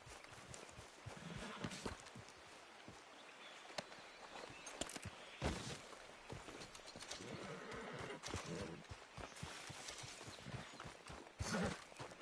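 A horse gallops in Red Dead Redemption, its hooves pounding in a quick, steady rhythm of close, crisp clip-clops, with a whinny partway through, lasting the full stretch.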